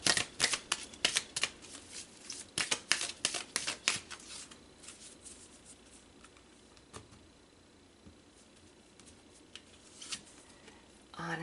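Tarot cards being shuffled, a rapid flurry of crisp riffling snaps through the first four seconds, then a few isolated card flicks against quiet room tone; no talking.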